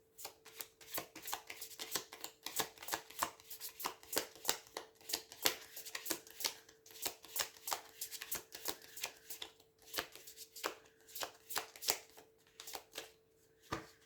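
Oracle cards shuffled by hand: a quick, close run of crisp riffling slaps repeating steadily, alone and fairly quiet.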